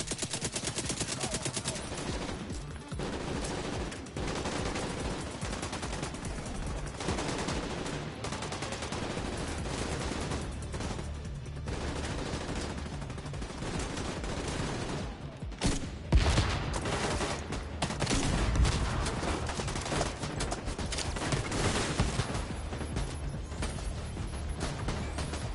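Nearly unbroken gunfire in a shooter video game, including minigun fire, with dense rapid bursts and overlapping shots lasting throughout. Each shot is loud and sharp, and a few heavier impacts stand out midway through.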